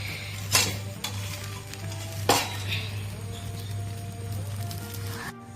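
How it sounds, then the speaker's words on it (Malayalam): Batter poured into a hot appam pan sizzles steadily up close, with a low hum beneath and a couple of sharp metallic clinks and scrapes of utensils. "നമ്മള് പത്തിരിച്ചട്ടി എല്ലാം ചൂടായിട്ടുണ്ട് കേട്ടോ. അപ്പൊ നമുക്ക് ഒഴിച്ചെടുക്കാം."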